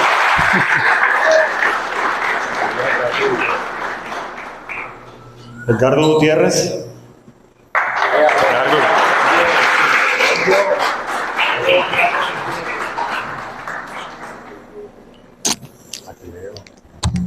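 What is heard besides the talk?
applause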